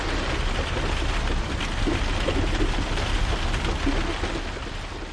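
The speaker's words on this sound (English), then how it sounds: "the patter of rain on the roof while you're in bed" Steady rain patters on a roof as a dense, even wash of drops, unbroken and fairly close, with no voices over it.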